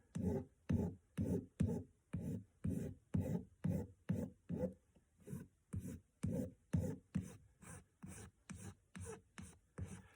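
Steady hand filing and rasping on a carved wax ring, about two strokes per second of rough scraping, close and fairly quiet with short gaps between strokes, no talking.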